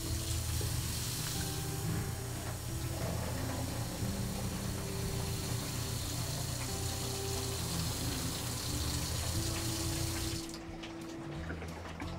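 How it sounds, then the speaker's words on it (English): A faucet runs in a converted 7x12 cargo trailer camper, its water pump droning underneath the steady rushing flow with a faint whine, then the flow stops near the end. "Just turn the water on."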